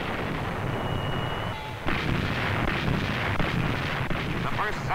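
A warship's main battery fires naval gun salvos in World War II combat at Leyte Gulf, with a sudden heavy boom cutting through a dense roaring background and loud sustained rumble after it.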